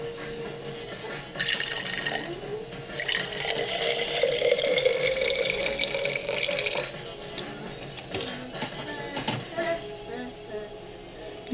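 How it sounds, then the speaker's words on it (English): Water poured into a handmade potion bottle mixture, a steady trickling pour lasting several seconds, fairly close and moderately loud, with a brief pause and then more liquid sounds. "I might add some water"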